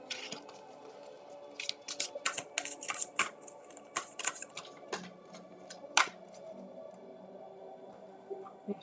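A deck of tarot cards is shuffled nearby in quick riffling bursts with crisp snaps, pausing and resuming, then fading to near quiet with no talk.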